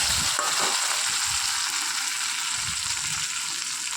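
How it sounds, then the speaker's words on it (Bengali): A paste of ginger, garlic and tomato sizzles steadily in hot oil, a constant bright crackle with occasional soft stirring scrapes near at hand. "আদা রসুন আর টমেটো একসাথে মিক্সিতে পেস্ট করেছি, সেই জন্যই একসাথে করেছি। তো এটাকে ভালো করে কষাতে থাকবো"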